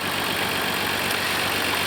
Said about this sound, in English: The engine is not firing properly.